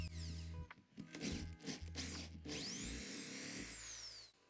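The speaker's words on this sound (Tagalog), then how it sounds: "gagamit tayo muna ng manipis tapos 10 na drill bit sa pagbubutas" A power drill with a thin bit boring holes in a wooden plank, the motor whirring steadily at close range with short pauses and changes in pitch, and no talking.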